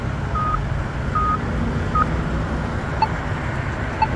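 Polara iN2 and iNS pedestrian crossing push buttons at Zinfandel Drive and White Rock Road in Rancho Cordova give a few short, separate beeps over steady roadside traffic rumble.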